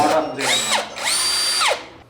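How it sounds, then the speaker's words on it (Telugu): An electric screwdriver with a BLDC motor running in two bursts, each with a whine that spins up and then winds down, loud and close. "నెక్స్ట్ ఇదైతే స్క్రూ డ్రైవర్. డ్రిల్లింగ్ మిషన్ కూడా యూజ్ చేసుకోవచ్చు కదా, కానీ స్క్రూ డ్రైవర్ అంటే మోటార్ ఇది BLDC మోటార్ వస్తుంది"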